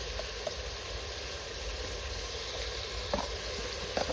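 Spices sizzling in hot oil in a pan during home cooking, with turmeric and asafoetida just added, giving a steady close frying hiss with a few soft pops and stirring clicks near the end.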